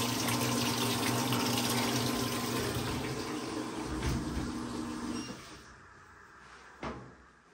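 A Fisher & Paykel washing machine, just fitted with a new control board after leaking from the bottom, fills with water in a steady broadband rush that drops off near the end, with a brief knock afterward.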